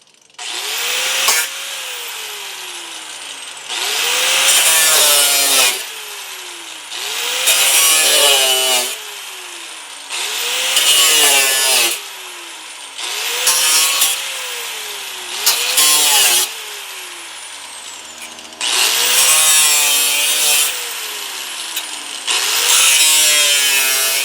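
A power saw cuts repeated vertical slits in Bushwacker fender flares on a 1999-2004 Jeep Grand Cherokee, about eight loud, close bursts of whining, rasping cutting, each spinning up and winding down with short pauses between.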